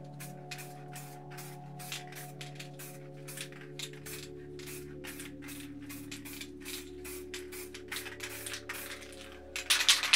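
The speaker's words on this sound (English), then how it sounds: "we'll just spray around these lightly" A Rust-Oleum spray paint can sprays paint for spray paint art, making a rapid series of short, close hissing bursts that end in a louder, longer spray.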